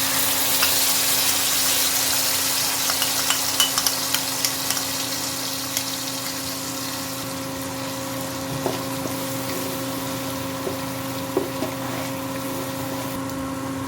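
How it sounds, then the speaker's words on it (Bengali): A paste of ground mustard, coconut and green chilli hits hot oil seasoned with black cumin in a pan, for a prawn dish. A continuous broad hiss of frying runs throughout over a low steady hum, with a few small ticks and pops. "মধ্যে আমি সর্ষে, নারকেল আর কাঁচা লঙ্কা দিয়ে বেটে রাখা পেস্টটা দিয়ে দিচ্ছি।"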